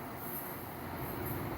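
A deadheading NJ Transit Arrow III electric multiple-unit train, car 1329 leading, rolls past at Madison, New Jersey, with a continuous rumble and high, thin wheel squeal.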